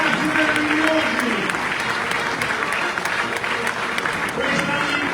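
Applause for the Belluno marching band at a centenary gala in Padova: a dense, sustained burst of clapping from a large crowd, loud and steady throughout with voices mixed in.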